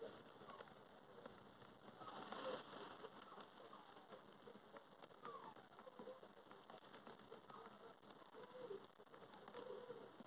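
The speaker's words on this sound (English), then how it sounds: "Just listen to that rain." Steady, dense rain from Storm Isha hisses throughout, heard from a bedroom window: a broad wash of noise with scattered drips and patters, loud and continuous without any voices.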